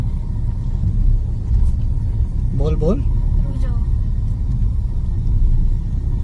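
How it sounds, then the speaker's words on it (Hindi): Heavy road traffic in a jam makes a continuous low engine rumble and idling drone, with a short burst of horn-like tones partway through, while people talk nearby. "अब ये देखो इतना ट्रैफिक चल रहा है हैवी, देखना"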